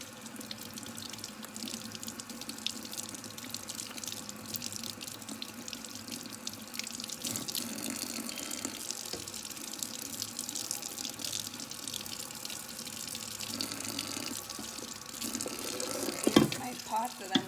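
A tap runs into a pot as dried peas are set to soak, a faint, steady splash and patter of water filling the pot, with a small clunk near the end.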